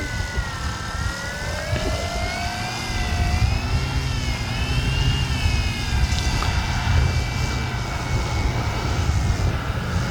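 A Flex Innovations RV-8 G2 RC plane making grass hops, its electric motor whining steadily with pitch swells as it speeds up and eases off low over a grass field. No voices are heard.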